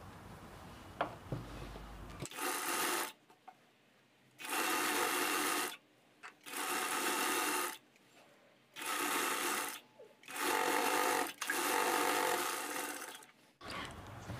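A sewing machine double-stitches a dress sleeve in several separate bursts of fast, even whirring, each a second or two long, with quiet pauses and fabric handling between them, close and clear.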